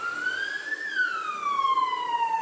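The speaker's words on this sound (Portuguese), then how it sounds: "Passando a ambulância." An ambulance siren sweeps past with a steady rising-then-falling wail, fairly faint and alone in the distance over a quiet background.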